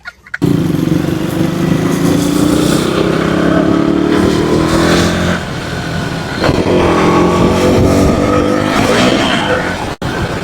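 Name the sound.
motorcycle engine revving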